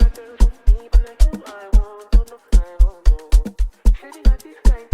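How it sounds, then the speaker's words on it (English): Amapiano beat with a kick drum and typical Amapiano percussion, tuned conga-like hits and shakers in a syncopated loop, steady and close with no talking. "I added in some nice percussion instruments, you know, normal Amapiano percussion instrument"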